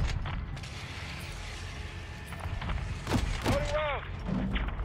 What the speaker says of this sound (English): Loading rounds.